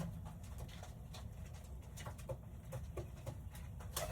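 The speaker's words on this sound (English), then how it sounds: "my pigeon is right here" Pigeons in a pigeon house with a freshly hatching chick, soft low cooing murmurs repeating under a steady background hum, moderately near and fairly faint.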